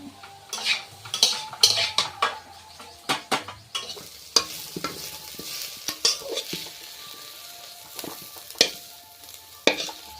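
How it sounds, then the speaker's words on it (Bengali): Food fries in a pan while a utensil stirs and scrapes it, with repeated sharp clanks and scrapes of metal over a quieter sizzle, close and irregular. "ভাজাটা হয়ে গিয়েছে এবার নামিয়ে দিচ্ছি"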